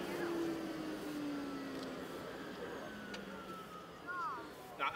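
After shutoff, the gas turbine engine of a 1963 Chrysler Turbine car gives a faint, smooth whine that glides steadily downward in pitch as it spools down, over a low background rumble.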